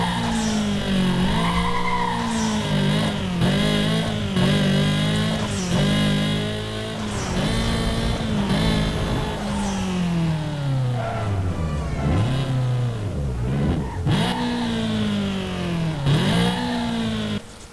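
A modified Honda Civic racing in Need for Speed Most Wanted 2005 with a Redux mod: engine revs rise and fall through repeated gear shifts, with tire squeals and skids, loud and continuous.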